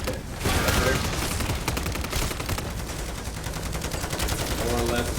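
Rapid automatic gunfire mowing down zombies in MW3 Zombies, a dense continuous stream of shots that keeps up steadily throughout, loud and close.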